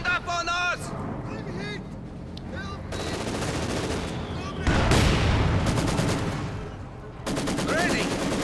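Rapid machine-gun bursts and heavier booming shots from a World War II strategy game battle with tanks and field guns, dense and loud, overlaid with voice lines and a commentator talking.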